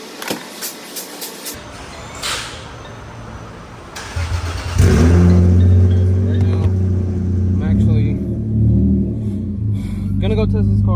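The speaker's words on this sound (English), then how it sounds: "Gonna go test this car out and see how it does and how it feels." A Lexus IS300 with a modified exhaust starts with a few clicks and thumps, then its engine rumbles to life loud and close, idling and driving off with a deep, steady growl.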